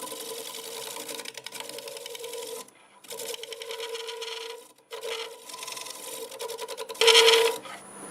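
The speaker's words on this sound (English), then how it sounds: "Little nub in the center is getting kind of stubborn. I think I can sand that right off." A redbud wood turning on a lathe is sanded to remove a stubborn center nub, giving a continuous whirring, rasping drone broken by short pauses near 3 and 5 seconds, louder toward the end.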